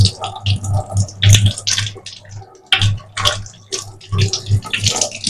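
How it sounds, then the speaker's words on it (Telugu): Sweet potato is washed under running water, with splashing and gurgling from a tap, uneven bursts of rinsing and rubbing broken by short quieter pauses, close by and without speech. "మంచిగా వాష్ చేసుకునేసి"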